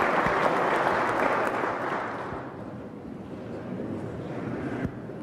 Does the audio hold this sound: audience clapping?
yes